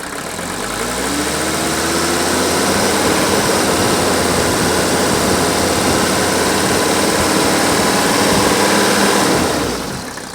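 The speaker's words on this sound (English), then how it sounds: "now I'm going to bring it up off speed and listen how smooth this engine runs" A 1983 Mercedes diesel engine rises from idle to a higher, steady speed and holds there smoothly, loud and close, before dropping back down at the end.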